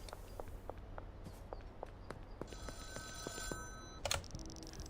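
A payphone rings in the video game Schedule 1, a repeated bell-like trill standing out over a low ambient hum, with soft footsteps and scattered clicks around it and a brief louder burst near the end.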